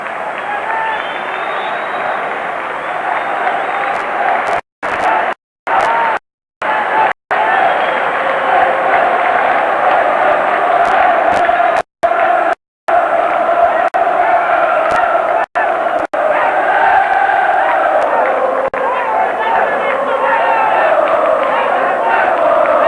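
Large football crowd at Cardiff Arms Park roaring and cheering after the Welsh Cup Final, a dense, sustained wall of voices with a few brief dropouts, loud and continuous throughout.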